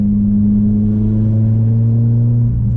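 A Peugeot 406 2.0 turbo with a Garrett turbocharger accelerates hard, its engine note rising steadily as a loud, close, continuous drone with no voices over it.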